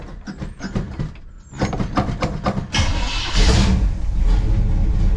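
A 1962 Chevrolet Impala engine with carburetor problems cranks and catches, then runs roughly with uneven pulses before settling into a loud, steadier idle close by.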